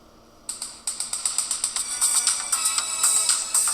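A song plays through the small built-in speaker of an Alcatel OT-708 budget touchscreen phone, sounding thin and tinny as a steady run of bright, evenly spaced pulsing notes with no talking.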